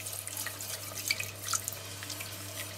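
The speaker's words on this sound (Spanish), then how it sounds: "vamos a ir añadiéndole la leche poco a poco y sin parar también de remover" Milk trickles gradually into a flour roux for a croque monsieur sauce while it is stirred, making a soft, steady liquid wash that runs continuously with no voices.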